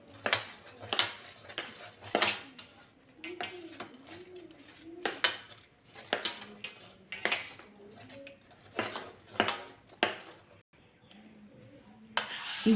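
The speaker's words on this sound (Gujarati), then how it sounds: "ઘી આપણું સાઈડમાં જતું રહેતું હોય છે, તો આપણે ચમચીની મદદથી આ રીતે વચ્ચે લાવીશું।" A metal spoon scrapes and clinks against a pan while pushing desi ghee back to the centre, giving repeated soft scraping strokes in an uneven rhythm, close and fairly quiet with no talking.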